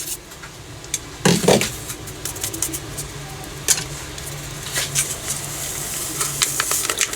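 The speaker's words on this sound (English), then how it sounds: "So we're going to give this a stir, get rid of all the lumpies." A spoon stirs powdered pectin into a jelly mixture in a pot, giving a brief scraping burst followed by soft, irregular patter and swishing over a low background hum.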